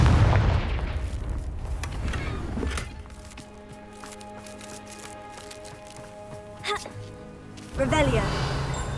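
Blasting spell explosions from Hogwarts Legacy burst out in a few separate hits. A heavy boom comes early, then further cracks follow over a quieter ambient stretch, with a voice talking at the start.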